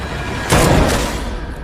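A gunshot fired with a silver bullet in the vampire-hunting film Day Shift: one sudden loud, broad blast that rings out briefly and decays into a noisy room tone.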